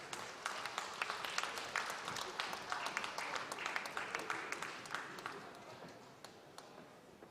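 A small audience claps for an award winner at a regional music festival in Yaroslavl, fairly faint and distant, with a few sharper individual claps standing out before the applause tapers off.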